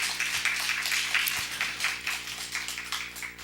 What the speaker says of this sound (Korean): 하나님께 우리 영광의 박수 올립시다.